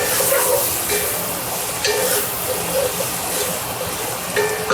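Garlic sizzles in a pot with chicken fat, a steady loud hissing crackle that runs the whole time without pause.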